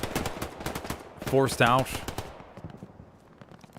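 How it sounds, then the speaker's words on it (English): Scattered gunfire crackles in the distance across a river in the World War II shooter Hell Let Loose on the Hurtgen Siegfried Line map. Rapid pops of shots and machine-gun bursts continue under a voice that talks briefly in the middle. "Allies have a decent amount of gunfire around from across the river."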